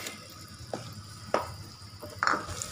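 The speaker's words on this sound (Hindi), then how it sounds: "पैन गरम करिए, इसमें 1 चम्मच घी, इसमें डालिए थोड़ा सा मक्खन, इसमें डालेंगे हम पनीर" Paneer fries in ghee and butter in a hot pan, a soft steady sizzle with a few light stirring clicks and scrapes, fairly quiet and without talk.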